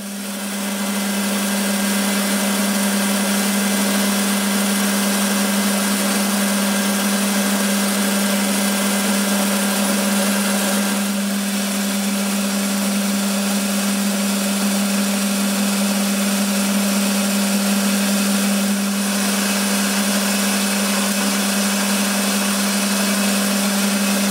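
A lathe turns a metal part down to diameter for an insert holder, the work supported by a centre; a steady, loud machine hum with a strong low drone runs throughout, with no voices.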